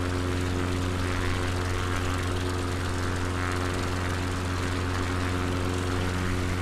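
Light propeller aircraft engine in Microsoft Flight Simulator 2020 on a Patagonia bush trip, a steady loud droning hum with strong tonal harmonics at about half throttle, unbroken for the whole stretch.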